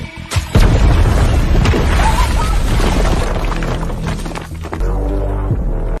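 A bomb set against a tunnel wall explodes in a film, a loud close boom that rolls into a long rumbling roar and debris crash, fading before a low hum.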